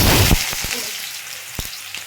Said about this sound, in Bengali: আমি পেঁয়াজ গাজর আলু দিয়ে দিলাম সব এখন একসঙ্গে ভেজে